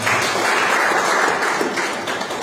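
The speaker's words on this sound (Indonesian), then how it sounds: "Berikan tepuk tangan semua." Applause from an audience at a live-streamed leaders' gathering in Bali, Indonesia: dense, steady clapping that stays close and loud, then eases off slightly toward the end.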